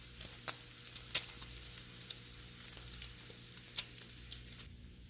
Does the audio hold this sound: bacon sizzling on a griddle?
yes